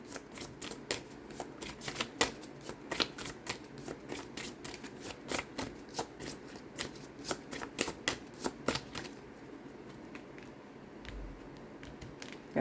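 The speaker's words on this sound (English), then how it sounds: "Okay, so we're going to shuffle again." Tarot cards being shuffled in rapid, crisp bursts of riffling and snapping, close up, continuing steadily for several seconds before falling quiet near the end.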